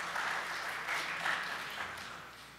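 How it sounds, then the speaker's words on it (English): Audience clapping at a membership seminar, a steady broadband patter of many hands at moderate level that swells slightly then thins toward the end, with no voices over it. "Yeah, you can clap for that."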